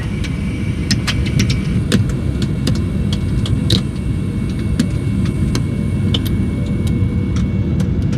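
A loud, steady aircraft engine roars continuously at close range, a dense droning rumble with occasional faint clicks on top.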